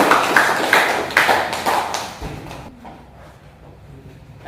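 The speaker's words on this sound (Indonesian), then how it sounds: "silakan kasih aplaus untuk kelompok 1" A classroom of students applauds a group after its presentation, a dense patter of clapping that fades out after about two and a half seconds, leaving quiet room tone.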